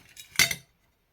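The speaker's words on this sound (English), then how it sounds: "I've got 2 nice pieces of glass here" Pieces of stained glass being handled, giving a short burst of bright clinking and clattering that peaks sharply for a moment and then falls to silence.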